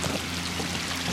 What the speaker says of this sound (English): there's water coming out of the wall.